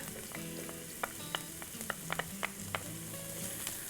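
Diced onion and minced garlic fry in a pan with a steady, soft sizzle, broken by small pops and the occasional tap of a utensil stirring, close and without any voices.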